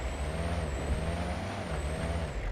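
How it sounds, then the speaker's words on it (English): A loud car in a video game rumbles steadily with a heavy low engine drone and a thin high whine above it, constant and close throughout. "holy shit, that is a loud car"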